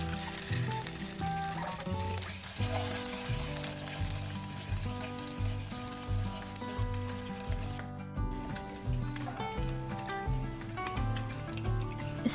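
Boiled, peeled eggs fry in a teaspoon of hot ghee or butter, giving a constant crackling sizzle that runs under rhythmic background music.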